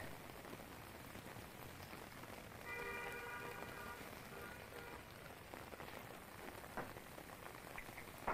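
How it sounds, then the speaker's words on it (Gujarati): Heavy rain pours steadily, a dense hiss of drops on surfaces, with a faint distant horn-like tone midway; no voices. "ધોધમાર વરસાદ વરસ્યો"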